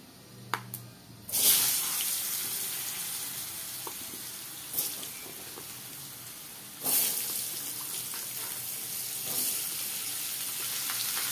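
Potatoes dropped into hot oil seasoned with panch phoron give a steady, close sizzle and hiss that swells in brief bursts at intervals, with no talking.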